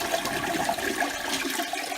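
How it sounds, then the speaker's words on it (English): A toilet flushing after a leak repair, with steady rushing water filling the whole short stretch at moderate loudness and no voices. "so we can flush it"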